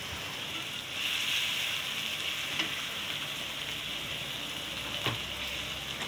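Chopped onions frying in a pan, a steady close hiss and sizzle throughout with a couple of faint clinks of stirring, no voices.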